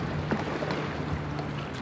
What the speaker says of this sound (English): Rowing to shore with our bent in half whisker pole.